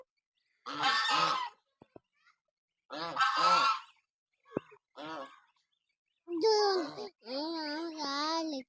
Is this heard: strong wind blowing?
no